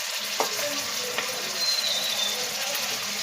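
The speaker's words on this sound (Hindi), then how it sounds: "ये मेरे पास तकरीबन 3 बोटियाँ, 2 टेबलस्पून ऑयल डालकर मैंने इसको गर्म कर लिया है। इसमें जाएगा चिकन" Shredded boiled chicken frying in about two tablespoons of hot oil for a samosa filling, a steady fine sizzle with a few light stirring knocks, moderately close.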